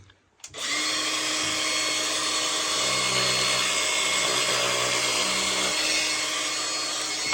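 A Makita LXT cordless metal shears cuts through lead strip meant for lead welding work, giving a steady, loud, close mechanical whine with a cutting buzz underneath that runs unbroken for several seconds after a brief start.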